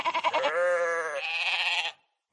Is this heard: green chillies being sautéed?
no